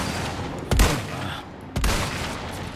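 Two sharp gunshots in the Resident Evil 4 Remake video game, spaced about a second apart, each a loud booming crack over a steady game ambience.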